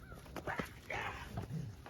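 Dogs scuffle in brief yips, whimpers and growly barks, a short and fairly faint burst of noise.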